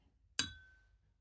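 A single bright clink of glass, close and crisp, followed by a short ringing decay before silence.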